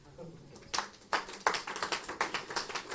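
A church congregation breaks into applause, starting with a few scattered claps that build into a steady rhythmic clapping, fairly faint and indoors, with a voice speaking near the start.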